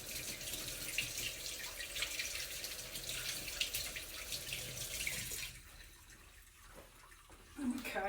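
A kitchen tap runs steadily as hands are rinsed during cooking. The close, even rush of water stops partway through and leaves quieter handling sounds.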